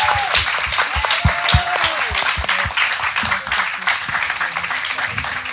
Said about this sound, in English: Can you please give one more round of applause to our speakers?